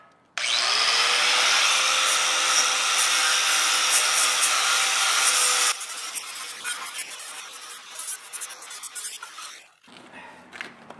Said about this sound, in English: I'm going to use this angle grinder with a wire brush on it